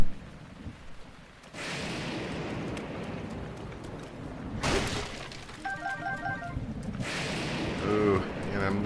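Thunder and lightning strikes in Breath of the Wild: three loud broadband crashes with rumbling tails over a steady game ambience, with someone talking throughout.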